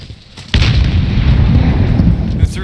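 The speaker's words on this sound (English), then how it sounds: "Tossing a frag." A frag grenade detonates in a squad battle-royale video game, a sharp loud boom after a quieter half second, followed by a long rumbling roar that persists to the end.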